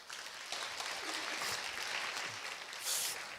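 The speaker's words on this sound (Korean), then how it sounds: "우리 찬양해 주신 이마누엘 찬양대기 다시 한번 박수 한번 보내주시죠" A church congregation applauds the Immanuel choir after a Sunday praise service, a soft, distant, even patter of clapping that holds steady throughout with faint voices underneath.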